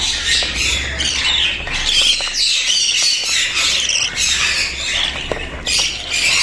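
A dense chorus of rainbow budgerigar chicks squawks continuously from their nests, loud, close and busy, with rough overlapping calls and some rustling filling the whole stretch.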